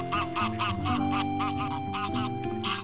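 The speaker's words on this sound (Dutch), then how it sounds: "Op en langs de dongen houdt al jarenlang een klein groepje grauwe ganzen zich op." Greylag geese honk repeatedly, a series of nasal calls in uneven rhythm, fairly close, over a steady low background hum.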